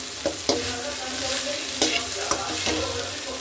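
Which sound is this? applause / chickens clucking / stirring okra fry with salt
stirring okra fry with salt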